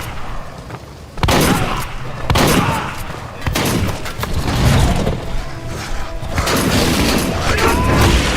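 Heavy gunshots and booms from a Werewolf: The Apocalypse game, with several loud close bursts spaced a second or so apart against a rumbling, busy battle background.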